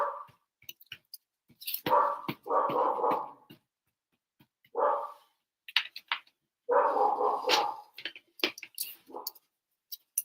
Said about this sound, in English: Dogs barking is not at all annoying.